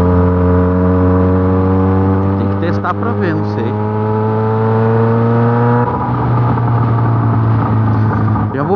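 Yamaha XJ6 motorcycle with a straight-pipe exhaust pulling hard toward top speed, a loud, steady, harmonically rich engine drone that climbs slowly in pitch and shifts once midway, with wind rush and faint voice sounds mixed in.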